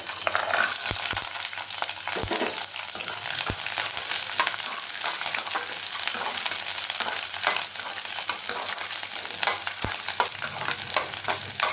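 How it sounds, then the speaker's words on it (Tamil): Shallots and garlic cloves sauté in a pan for garlic chutney, giving a steady, close sizzle with a few sharp clicks of stirring throughout. "நல்லா வதக்கிக்கோங்க. இப்போ இது ஓரளவு வதங்கிடுச்சு"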